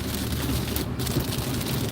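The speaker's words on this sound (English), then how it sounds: "And it's starting to rain harder." Steady rain falls while a car is being driven through a residential neighbourhood, a dense even hiss with low road rumble and no talk.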